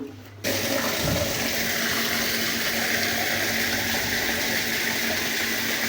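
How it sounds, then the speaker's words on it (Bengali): Steady, loud rush of running water, like a tap filling a jug, starts abruptly after a brief quiet moment and continues without a break, for watering rooftop plants in hot weather. "ছাদে কিছু গাছ আছে যেগুলোতে জল না দিলে এই প্রখর বৈশাখে শুকিয়ে যায় তাই একটা জক নিয়ে গাছগুলোতে জল দিচ্ছি"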